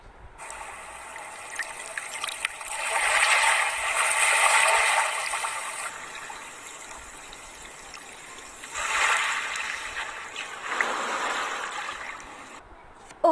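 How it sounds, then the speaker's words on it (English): Seashore waves washing in soft surges, swelling twice and fading, with a faint steady hiss underneath and no voices. "Sound of water"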